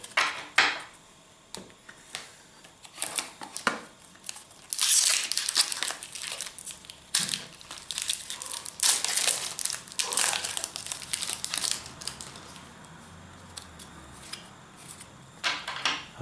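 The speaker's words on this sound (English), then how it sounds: "We're opening boosters here." Foil wrappers of Magic: The Gathering Gatecrash booster packs crinkle and tear open in repeated bursts of close, loud rustling, with quieter handling between.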